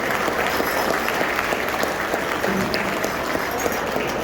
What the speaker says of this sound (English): Let's have a big round of applause for all the dancers, the drummers, who've done an amazing job opening this event.